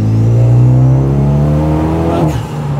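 A Renault Megane RS250 Cup accelerates hard on a road, its engine note rising steadily in a loud, close drone before a gear change near the end, with no talking.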